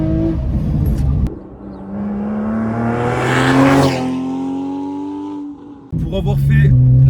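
Porsche 911 with a PDK dual-clutch gearbox at racing speed on a circuit, its engine note climbing steadily through the gears and pausing briefly at a rapid shift, loud and close, with a voice talking over it.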